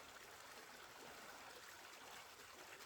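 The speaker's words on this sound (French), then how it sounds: "Avec beaucoup de cascades, mais bon, pas beaucoup d'eau." Small winter waterfalls carrying little water along the Tanneron ridges, a steady, gentle trickling rush that is faint and distant, with no voices over it.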